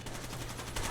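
Incoming gunfire striking the player in Rainbow Six Vegas 2, a brief, dense burst of rapid shots that sound moderately close and carry on without pause.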